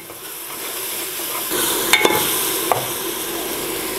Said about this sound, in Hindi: और अब इसकी भुनाई करेंगे हम।